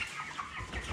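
A young Ross 308 broiler rooster gives a brief, close burst of indignant clucking.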